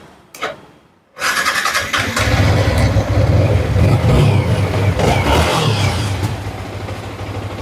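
A Yamaha R15 V4 motorcycle engine starts after a brief click and then revs hard, loud and close, its throaty roar rising and falling through several throttle blips before settling into a steady run.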